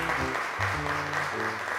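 A television studio audience claps together in a steady, moderately loud round of applause for a child performer stepping back from the microphone, continuing throughout with no voices on top.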